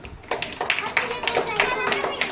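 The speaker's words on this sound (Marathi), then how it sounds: "टाळ्या वाजवा" A quick series of about eight hand claps comes in a fairly regular, lively rhythm, close and fairly loud, in a small indoor setting.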